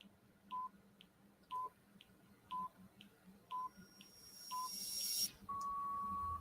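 A quiz countdown timer during an online cookery lesson gives five short electronic beeps about one second apart, then a longer steady tone, clear over quiet room hiss.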